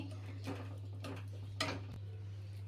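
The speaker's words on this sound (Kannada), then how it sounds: "ಈಗ ಇದನ್ನು ಸ್ಮ್ಯಾಶ್ ಮಾಡ್ಕೊಂಬಿಡೋಣ ನೀಟಾಗಿ" Cooked lentils (dal) being mashed in a pot for drumstick sambar, a few quiet scraping clinks of a utensil against the vessel over a low steady hum.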